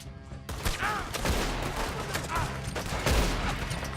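Rapid gunfire from a camp shootout in Red Dead Redemption 2 on PS4 Pro, a dense fusillade of overlapping shots and sharp cracks, loud and sustained, with shouting voices mixed in.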